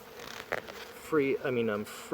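Worker honeybees in an open top bar hive, a strong colony with plenty of brood, give a faint buzz at first, then a voice talks over the rest of the hum.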